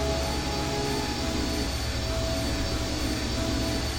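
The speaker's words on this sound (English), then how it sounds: "if we use the fork with the engine, that supposedly stops it" An engine runs in the 1995 game I Have No Mouth, and I Must Scream, giving a continuous loud roaring drone with a steady hum and no change in level.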